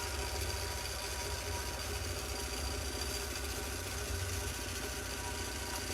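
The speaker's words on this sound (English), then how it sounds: "I love the way this stitches out. It's like magic watching it all lay down like that." A longarm quilting machine stitching couched yarn onto a quilt hums steadily and evenly at close range, with a continuous mechanical drone throughout and no talking.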